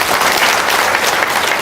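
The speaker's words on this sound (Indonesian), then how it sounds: "Tepuk tangan dong, luar biasa" Dense applause from a seated audience at an Indonesian religious talk session, steady and full throughout with no pauses.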